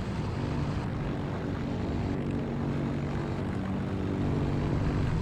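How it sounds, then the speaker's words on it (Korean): A reconnaissance plane's propeller engine drones in the video game Heroes & Generals, a steady, loud, continuous buzzing roar that holds without a break throughout. "님 저거 비행기 쏘세요 비행기"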